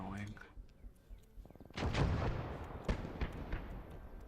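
Mortar and artillery fire in the Gates of Hell war video game, several sharp booming blasts with rumbling tails amid a rattle of distant gunfire, loud and irregular, with a voice talking over the opening.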